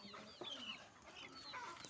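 A rooster clucking close by in a village setting in the early morning, several short throaty clucks over quiet outdoor background.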